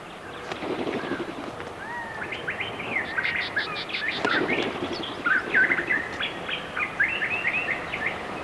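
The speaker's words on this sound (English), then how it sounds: "the tenant in residence is most likely a brown-crested flycatcher" A brown-crested flycatcher calls outdoors in Brazoria, repeating short whistled notes and chattering phrases that grow busier and louder toward the end over a constant background of outdoor noise.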